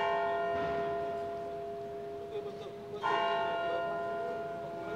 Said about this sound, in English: I was going to wait for the church bells to stop ringing before carrying on